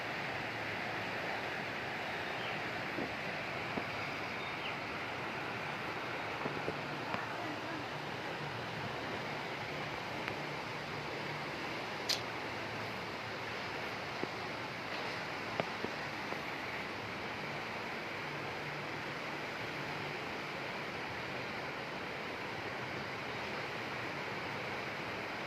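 Heavy rain pours during a flood in Medan Maimun, Medan: a steady, dense rushing hiss of downpour, continuous and fairly distant, with faint scattered drips and clicks and no clear voices.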